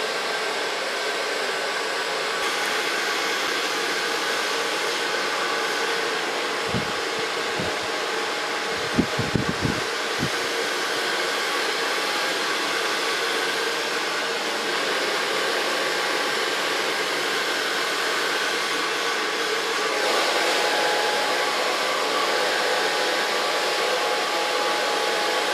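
A handheld hair dryer runs steadily while blow drying hair in a salon, a continuous loud whooshing roar that shifts slightly in pitch, with a few soft clicks and handling knocks partway through.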